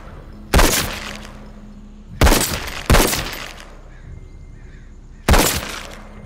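Single-shot gunfire from a firearm in the VR game The Walking Dead: Saints & Sinners: four loud, sharp bangs at uneven intervals, each with a short decaying tail, over a low background hum.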